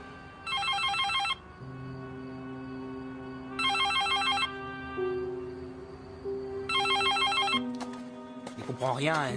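Telephone ringing unanswered in a quiet room, three regular bursts of bright electronic trilling separated by pauses, with faint background tones and a short noise at the end.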